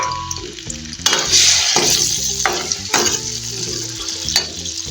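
Chopped tomatoes and green chillies fry in oil in a wok, crackling and sizzling loudly while a spatula scrapes and stirs in several bursts.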